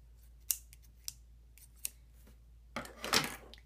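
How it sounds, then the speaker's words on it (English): Regular scissors snip yarn in a few sharp, separate clicks, followed by a longer burst of rustling cutting at the end, quiet and close. "You'll also need some scissors, just using some regular scissors."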